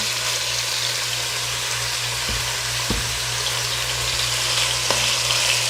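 Thinly sliced marinated chicken fries in a pan with a constant, dense, close sizzle and a few soft knocks, and no voices.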